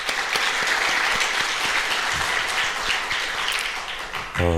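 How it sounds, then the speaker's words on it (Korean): A church congregation at a Friday service bursts into sustained applause, dense steady clapping filling the room throughout before tapering slightly near the end. "그 일을 행하신 우리 주님께 영광의 박수 올려드리겠습니다"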